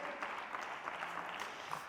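A church congregation applauds steadily during a sermon, a dense patter of many hands clapping at an even level throughout.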